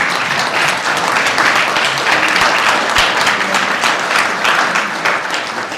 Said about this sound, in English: Give yourselves a hand, ladies and gentlemen.